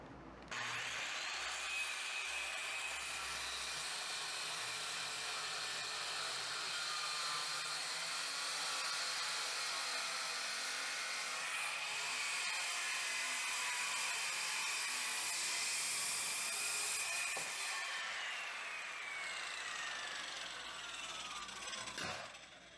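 A power saw whines loud and steady as it cuts through wood for a bar top, the high-pitched drone holding for about twenty seconds before trailing off at the end.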